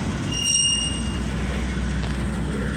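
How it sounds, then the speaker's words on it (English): Trains rolling past at a railfan spot in Irondale, a loud steady rumble of railcars with high metallic wheel squeals near the start, close by and continuous, no talking. "So we're gonna see two trains at once"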